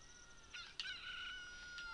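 A rooster crows at dawn in The Legend of Zelda: Ocarina of Time, a bright game sound effect with a sharp onset and a sustained cock-a-doodle-doo, then a faint later note, heard alone over quiet background.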